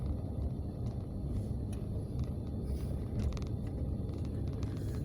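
Car interior rumble while driving into the Atlanta State Farmers Market in Forest Park, a steady low road and engine drone with faint distant clatters, no one talking.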